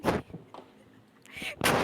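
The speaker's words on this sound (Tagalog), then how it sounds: "Do you want to watch the fireworks?" Fireworks explode in two loud, broadband booming bursts, one at the very start and one near the end, with quieter crackle and murmur in between.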